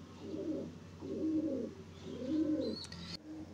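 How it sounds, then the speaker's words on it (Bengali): A pigeon coos up close in three deep, rolling phrases at an even pace, followed by a brief high squeak at the end. "পায়রাটা কতটা সুন্দর দেখুন, পায়রা হেডশেপ দেখুন"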